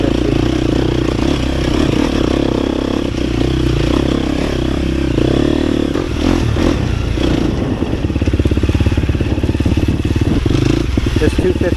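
A 250 dirt bike being ridden on a trail, with another rider following, gives a continuous close engine drone mixed with wind buffeting and rattling clatter, and the throttle changes slightly toward the end.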